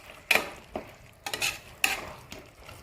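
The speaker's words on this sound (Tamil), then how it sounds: "காய்கறியோட அரைச்ச பாலக்கையும் கொஞ்சம் இதோட சேர்ந்து ஒன்று சேர கலக்கிறோம். கொஞ்சம் நேரம் இது வதங்கட்டும்." Spinach paste and mixed vegetables sautéing in a pan for pulao, a soft sizzle broken by several distinct bursts of a spoon scraping and stirring against the pan.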